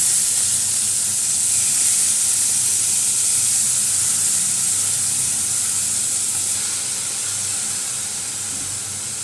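Cumin seeds and chunks of elephant foot yam frying in hot oil give a steady, loud sizzle and hiss that holds evenly throughout and eases slightly toward the end, with no talking.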